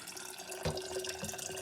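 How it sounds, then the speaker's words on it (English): Water poured into a jar holding Epsom salt, a short splashing trickle with a brief louder gush near the middle, close and fairly quiet, with no voices. "we're going to fill the jar about 2/3 full"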